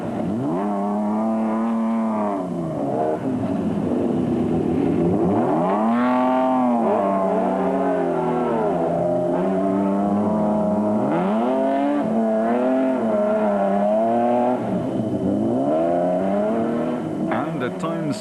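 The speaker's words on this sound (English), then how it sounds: "the Nissan Navara was still sounding in fine voice" Nissan Navara rally truck on an icy, snowy rally stage, its engine loud and steady with rising and falling revs throughout, heard under continuous commentary.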